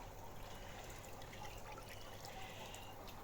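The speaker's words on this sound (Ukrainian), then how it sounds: "і зливаємо воду" Water drains out of a small bucket of Australian crayfish raised in a recirculating aquaculture system, a soft, steady trickle and pour running continuously at low level with no talk over it.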